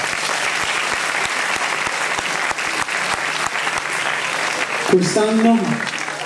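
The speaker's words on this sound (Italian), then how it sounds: "Applauso, grazie." Concert audience at a Christmas show in Bitti applauds in a steady, dense wash of clapping, with a voice cutting in near the end.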